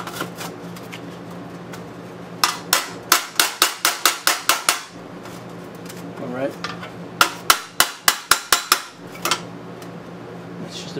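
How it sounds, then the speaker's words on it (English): A hammer strikes the metal of a 1940s Harley Servicar utility box during restoration, in two quick runs of sharp ringing blows close by, with someone speaking briefly between them. "Let me get the magic hammer here."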